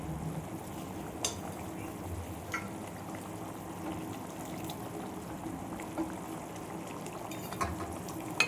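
Thick mutton curry gravy bubbles and simmers steadily in a pan, with occasional soft pops and light clinks over a constant low hiss.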